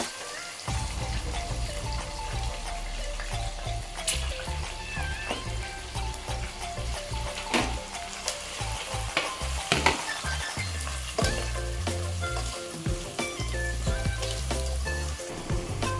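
Onions frying in a pan for chicken pulao, a steady close sizzle with clinks and scrapes of stirring throughout, mixed with background music.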